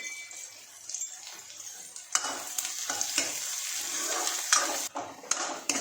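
Onions frying in a pan until golden brown for a simple spinach chickpea dish, a steady close sizzle with repeated spatula scrapes and stirring knocks throughout.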